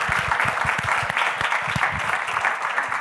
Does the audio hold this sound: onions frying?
no